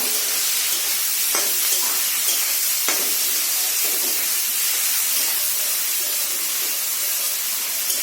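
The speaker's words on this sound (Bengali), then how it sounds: "এখন দিয়ে দেবো পেঁয়াজ কুচি।" Chopped onions hit hot oil in a pan while a Bengali katla fish head and jackfruit ghonto is being cooked, giving a steady, close, bright sizzling hiss that runs unbroken throughout with a few faint clinks.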